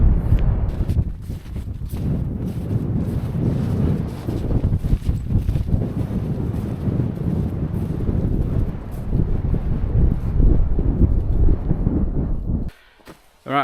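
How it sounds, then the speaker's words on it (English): Strong wind buffets a snowy winter mountainside on Stybarrow Dodd, roaring loud and continuous against the microphone with gusty surges, then dropping off abruptly near the end. "Alright, so we're finally out of the wind."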